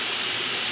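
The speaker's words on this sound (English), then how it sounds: "I don't know that you can see the steam coming up, but you can certainly hear it" Constant loud hiss of steam escaping from a pot of simmering beef bone broth, a dense, steady rush with no break and no talk.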